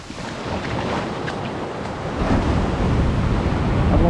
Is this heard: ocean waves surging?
yes